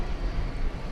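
Steady broadband rumble of an American Airlines jet arriving from San Antonio at DFW Airport in the evening, a continuous roar at moderate distance with no voices.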